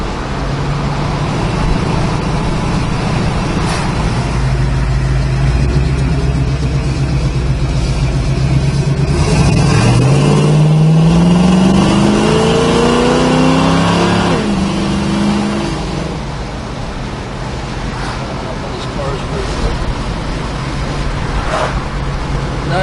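A 1963 Chevrolet Nova's engine runs loud and steady at close range, then revs up in a rising sweep through several shifts before settling back to a lower, even idle-like drone.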